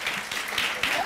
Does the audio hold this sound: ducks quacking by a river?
no